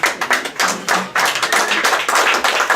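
Audience applause at a Paris awards evening for restaurants in 2018, honouring a guest: steady, dense clapping from a room full of people, close and fairly loud, with a brief dip before picking up again.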